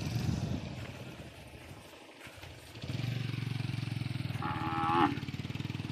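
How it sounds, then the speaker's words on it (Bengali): Cattle on a Padma river char in a border area give a long, low, close moo that swells near the end, after a stretch of quieter rumbling background. "হাজার হাজার গরু রয়েছে এই জায়গাগুলোতে।"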